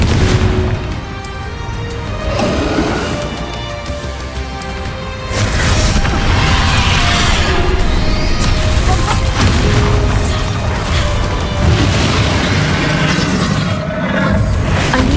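Fire spell blasts in the video game Hogwarts Legacy, loud booming bursts over busy battle sounds with heavy crashes throughout, a sharp surge near the five-second mark.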